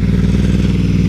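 A Ducati motorcycle rumbles close by, a loud, steady low engine throb with a rapid pulsing beat, heard alone without any talking.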